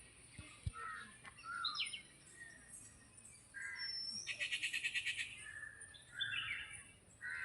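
Birds chirp and sing in a temple courtyard, with several distinct calls scattered across the span, including a rapid repeated trill in the middle, fairly clear over a quiet background.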